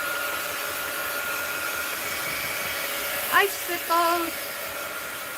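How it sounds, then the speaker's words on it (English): Heat gun drying a wet mixed media art journal page, a steady blowing whoosh running throughout, with a short spoken word over it. "I'm going to hit this with the heat gun."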